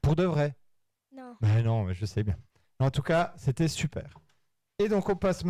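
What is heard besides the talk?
None of the usual background noises is heard.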